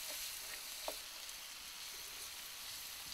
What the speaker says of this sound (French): Et vous glissez dedans cette huile de palme. Mais attention, on ne va pas la faire cuire très longtemps.